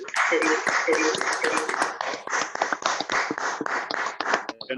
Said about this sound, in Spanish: Podemos abrir los micrófonos y hacer un aplauso